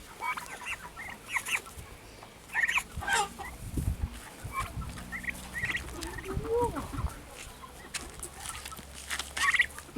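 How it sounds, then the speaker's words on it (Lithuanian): Turkeys gobble repeatedly in a farmyard with chickens nearby, the bursts coming close and fairly loud in uneven clusters, mixed with scattered clucks and chirps. "Eisiu atnešti jėsti kalakutam čia."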